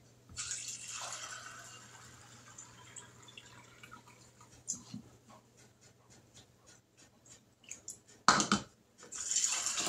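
Water trickles and splashes as it is poured into jars of black beans during home canning, with intermittent drips and clinks, then a louder sudden pour and rush of water near the end.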